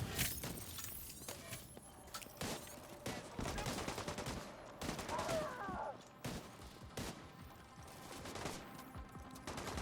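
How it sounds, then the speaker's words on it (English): Enemies fire from a distance in The Division 2 video game, with rapid bursts of automatic gunfire and scattered single shots crackling on and off, mixed with game effects and faint talk. "Those guys are shooting from a ways away."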